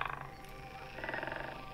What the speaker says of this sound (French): Ici, un concerto de grenouilles rieuses sur la rive gauche